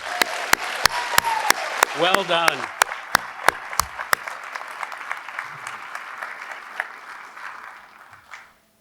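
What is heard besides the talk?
audience applause at a graduation ceremony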